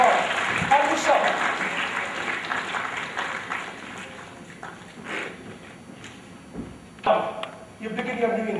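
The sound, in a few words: audience applause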